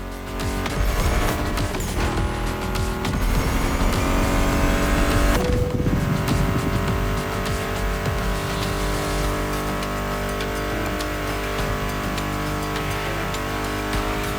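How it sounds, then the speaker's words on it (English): Racing-game car engines from The Crew Motorfest roar steadily and loudly throughout, with a possible crash or impact around the middle, blended with a music track playing underneath. "Meshes well with the sound of the engines, you feel me?"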